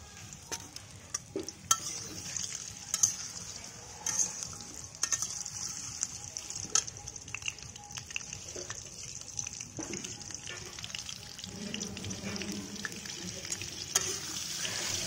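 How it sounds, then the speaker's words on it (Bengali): Meat being stirred and fried in a pot over an outdoor clay stove, with a continuous sizzle broken by repeated scraping clicks of a spoon against the pot, close up and irregular, with faint background murmur. "আজ আমি মাটির উনুনে রান্না করছি, কারণ মাটির উনুনে মাংস রান্নাটা অন্যরকম টেস্ট আসে"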